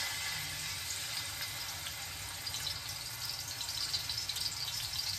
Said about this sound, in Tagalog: Pwede na po natin siyang i-prito.